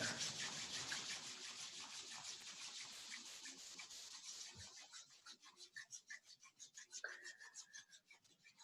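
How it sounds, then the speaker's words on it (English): Palms rubbed together briskly during a yoga session, a steady close swishing friction that turns into shorter rhythmic strokes toward the end, quiet and alone. "bring the hands to the heart center and rub them together"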